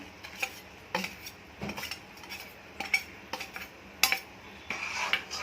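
A spoon stirs kadhi in a metal pot, scraping and clinking against the sides in irregular strokes about once a second, close and fairly loud with no voices.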